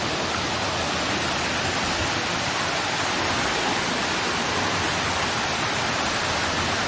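A pump feeds water down an artificial waterfall sculpture at Ratchathani Asoke in Warin, Ubon Ratchathani. It roars steadily and loudly, close by, as a dense unbroken rush with no voices.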